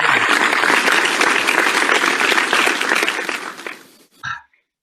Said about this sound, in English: sorry, wait for the applause